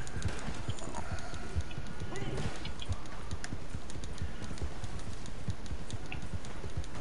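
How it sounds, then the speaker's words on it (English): Horse hooves clip-clop in Red Dead Online, a dense, rapid patter of many hoofbeats at close range, with faint voices and clicks mixed in. "Horses everywhere, guys. Horses are everywhere."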